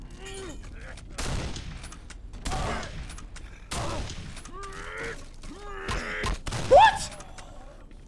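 Repeated shotgun blasts in a 2005 horror game, five or six heavy booms about a second apart, mixed with groans and voices talking over the shooting.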